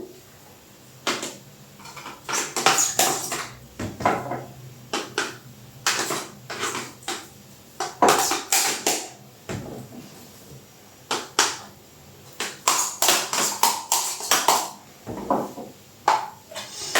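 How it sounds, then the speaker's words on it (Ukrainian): A spoon packing ground meat into a sausage stuffer syringe, giving irregular bursts of scraping, knocking and clacking against the tube with short pauses between, close and fairly loud, no talking. "Набиваємо шприц ложечкою, плотненько фарш трамбуємо."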